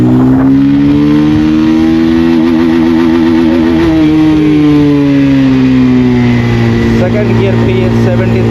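A 2026 Bajaj Pulsar 220F motorcycle pulls hard in second gear, its engine note rising loudly and steadily before easing, heard up close from the rider's position with someone talking over it.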